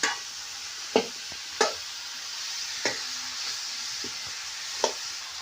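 Eggplant bhaji cooking in a pan, a soft low sizzle under a handful of sharp spatula scrapes and taps spaced a second or so apart, close and fairly quiet, with no voices.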